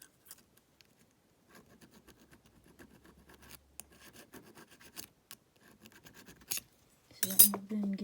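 A hand file scrapes in short, light strokes, cleaning burrs off a freshly cut key, quiet and close with small taps between strokes and a louder rasp near the end.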